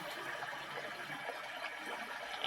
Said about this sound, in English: so this is a more stimulating stream, more like this one